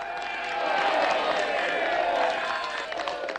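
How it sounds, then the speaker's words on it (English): A dense crowd of townspeople cheers steadily in a scene from The Prisoner, a continuous wash of many voices at an even level. "you're cheering me. You're cheering me."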